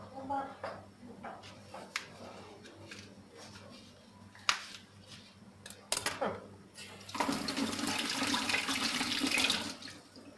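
Tap water runs from a kitchen faucet into the sink as food is rinsed, a steady broadband rush that swells loudly near the end, with someone talking and scattered clinks of dishes earlier.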